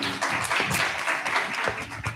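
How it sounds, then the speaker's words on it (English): Audience members at a South Africa–Colombia exchange forum give a round of applause, a moderately loud patter of uneven hand claps that continues without pause. "Please give Ntate Mokushani another big round of applause."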